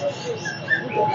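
Pigeons cooing at a pet market, soft short coos near at hand, mixed with background chatter and market noise in a brief snippet.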